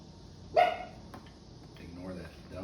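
A dog barks once in the distance during a Jeep Wrangler bumper install, a short sharp bark followed by a faint talking voice and workshop noise.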